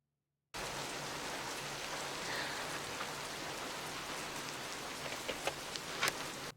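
Heavy, steady pouring rain in a scene from the TV series Smallville, a dense continuous wash of rainfall with a few sharper drip and splash accents near the end, and no talking.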